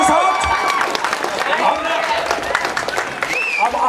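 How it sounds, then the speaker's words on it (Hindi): Loud clapping from a crowd at a film motion poster launch event, brisk and continuous, with voices and crowd noise mixed in over the applause. "जोरदार तालियों के साथ"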